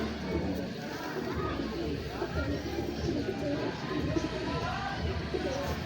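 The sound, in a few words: cooing of dab-marked pigeons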